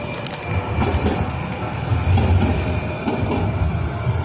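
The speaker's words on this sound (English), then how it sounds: "That's the train I wanted." A train rumbles past close by, with heavy low-pitched rolling noise and faint rhythmic wheel clatter, loud and continuous with no voices.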